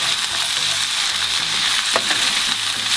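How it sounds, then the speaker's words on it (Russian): Zucchini and peppers fry in a pan with a dense, steady hiss of sizzling oil, a sharp stirring scrape cutting in near the middle. "И буквально еще минуты 4 все это вместе прожариваем."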